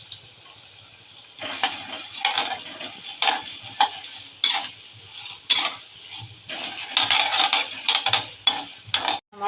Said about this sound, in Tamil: தாளிப்புக்கு எடுத்து வச்சுருக்கிறதெல்லாம் எண்ணெயில் போட்டுருவாங்க.